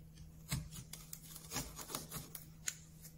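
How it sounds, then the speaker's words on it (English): A chisel made in the 1980s pares wood while fitting a finger pull on a W. Watson camera being restored, giving soft, close rasping scrapes in short, uneven strokes over a low steady hum. "Put it on flat, draw it back. Don't ever lift it."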